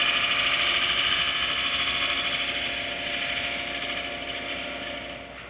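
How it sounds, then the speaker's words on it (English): A 1/4 inch spindle gouge cuts a quarter sawn white oak platter spinning on a lathe, giving a steady, loud, bright whirring hiss with a constant motor drone that eases slightly toward the end. "I'm going to crisp the area up around the base with my 1/4 inch spindle gouge"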